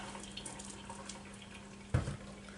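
Spaghetti drains from a pot as water runs in a steady low wash, ending in a sudden louder splash and gush near the end. No voices are heard.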